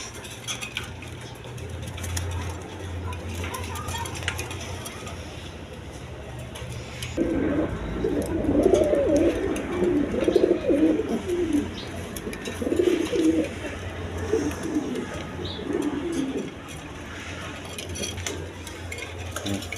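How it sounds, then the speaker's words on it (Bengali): Afsan Girijal pigeons coo in low, rolling bursts at close range, over a steady background hum with faint clinks of dishes or metal. "অরিজিনাল আফসান গিরিজাল কবুতর"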